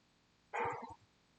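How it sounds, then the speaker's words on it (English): A dog gives a short single bark with a quick yelp-like tail, faint and somewhat distant, in an otherwise quiet room. "The dog wants to join in."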